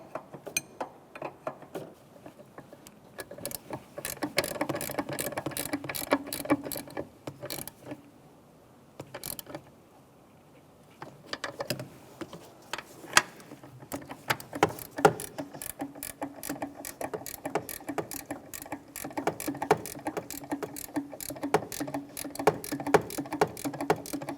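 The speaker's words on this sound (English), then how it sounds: "Then I'm going to tighten the master back on that brake booster, and I will snug these lines tight" Tools clink and ratchet while a brake master cylinder is tightened onto the booster of a 2002-2005 Ford Explorer, a close series of metallic clicks and scrapes with short pauses.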